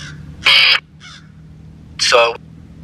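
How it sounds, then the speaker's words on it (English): A crow-like bird near a Native American shell mound gives two loud, harsh caws about a second and a half apart, with a fainter call between them, clear against quiet background hum. "There is that bird again in the bowl."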